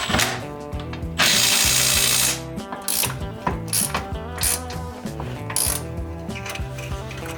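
A power tool or ratchet drives a stubborn bolt into a transfer case skid plate on a Jeep Cherokee XJ, loud and close, with a long whirring burst followed by choppy ratcheting bursts and mechanical clatter.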